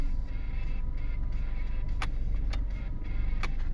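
A car's electric power window motor raises the glass with a steady whirring hum and a few sharp clicks, close by and with no talking.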